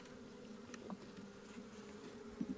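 Honey bees hum in a low, steady drone as they move around the hive frames during a hive check. The buzzing is faint and close, and a couple of brief, louder passes of a nearby bee stand out.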